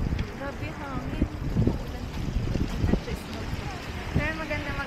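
Strong wind blows outdoors on a walk in Finland, a low, gusty rumble buffeting the microphone. People talk over it throughout.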